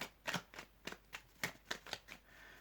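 Tarot cards are shuffled by hand for a reading, a quiet close series of about nine crisp riffling flicks and snaps in an uneven rhythm, with no talk.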